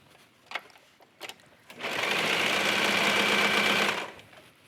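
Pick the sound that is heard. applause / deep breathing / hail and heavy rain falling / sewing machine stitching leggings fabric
sewing machine stitching leggings fabric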